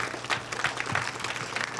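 A small crowd claps together in a brief burst of applause, a steady patter of hands close by.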